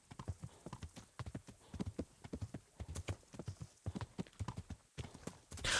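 Horse hooves clip-clop steadily in the video game Kingdom Come: Deliverance, a continuous rhythmic stream of close, distinct hoofbeats with no talking over them.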